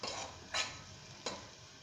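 Potatoes and coarsely crushed peanuts cooking in a pan for sabudana khichdi, a soft background sizzle broken by two brief scraping stirs of a spoon.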